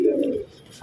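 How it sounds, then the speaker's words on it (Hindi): A prize-winning racing pigeon gives one short, low coo, close and clear, fading briefly before a second soft coo begins. "ये बाजी जीता हुआ कबूतर है भाई"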